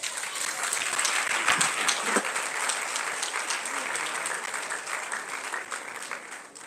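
Students at a university freshmen orientation applaud in a hall. The clapping is dense and sustained, with some sharper individual claps, and it slowly fades toward the end.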